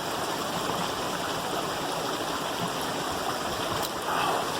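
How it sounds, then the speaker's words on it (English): A creek runs steadily through a deep canyon at midday, its broadband rushing and gurgling close and continuous, with no voices over the water. "Great spot for it, right here by the creek."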